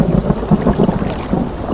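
Rain falls during a boat ride, a dense, loud rush of rain with low rumbling, steady and close with no voices.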